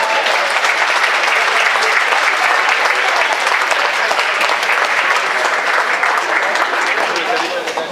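A concert audience applauds to welcome a singer at an orchestra show in La Grand Combe, a loud, dense and steady round of clapping from many hands lasting the whole time.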